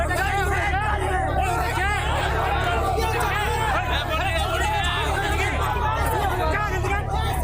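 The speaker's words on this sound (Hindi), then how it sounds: "भीड़ में मौजूद लोग भी आपस में झगड़ रहे हैं।" People in a street crowd argue among themselves, a loud unbroken wall of overlapping, raised voices with sharper shouts poking out, close and busy from start to finish.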